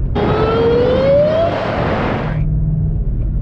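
A loud Shelby GT500 engine revs up with a rising, high-pitched supercharger whine over a rumbling roar, then drops back to a steady idle.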